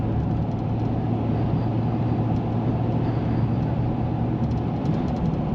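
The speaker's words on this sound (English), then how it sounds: "There's a little bit of wind noise at this speeds." Wind noise inside a 2023 Ford F-250 XL FX4 pickup with a 6.8L V8, cruising at about 70 mph: a steady broadband rush with a low road and engine drone underneath, continuous and even throughout.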